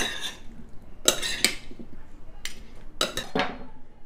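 A salad is tossed with olive oil and vinegar, with utensils clinking and scraping against a bowl in a few sharp strikes amid softer stirring and rustling, close and moderately loud.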